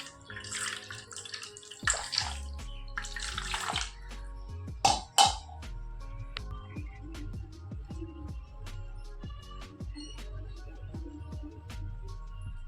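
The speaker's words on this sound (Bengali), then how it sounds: "এবার আমি আমার গোপাল সোনাদের স্নান করিয়ে নিচ্ছি।" Water pouring and splashing into a basin while small Gopal deity idols are bathed during a Monday Shiva puja ritual, steady trickling with a few louder splashes, close and alone with soft clinks of metal vessels.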